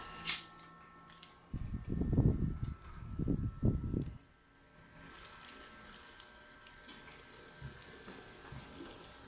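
Sprite soda poured into a bowl of hwachae makes a short fizzy, splashing stream lasting a couple of seconds, then gives way to quiet room noise.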